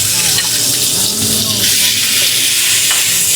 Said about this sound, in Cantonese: 鑊底流油，先炒辣椒同菠蘿